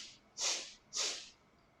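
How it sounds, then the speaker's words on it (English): Two forceful nasal blows after a jala neti saltwater rinse, each a short breathy rush of air about half a second apart, close and alone with no talk. "Just blow your nose."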